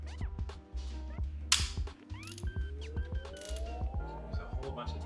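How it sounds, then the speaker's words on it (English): A socket ratchet on a long set of extensions works old, dusty, oily car bolts loose, making rapid close clicking pawl bursts, metallic creaks and a rising squeal between strokes. "cracking these bolts open."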